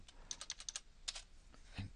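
Quiet, quick keystrokes on a computer keyboard, a brisk burst of clicks followed by a few scattered taps, close up with no talking.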